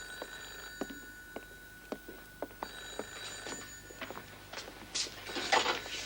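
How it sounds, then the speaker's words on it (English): A telephone bell rings in a domestic stage drama, repeated bright trills spaced through the room at moderate level, with no talk over it. "Val, get the phone"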